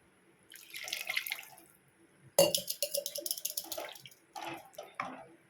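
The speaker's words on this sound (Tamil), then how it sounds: "இன்னும் கொஞ்சம் தண்ணி சேர்த்துக்கலாம்" Water splashes and trickles in short bursts as it is poured into a simmering okra and drumstick curry, a brief pour followed by a louder stream with clinks and drips, close by with no talking.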